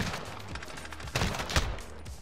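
Several sharp video game gunshots crack out irregularly over a busy background, two louder bursts standing out near the middle.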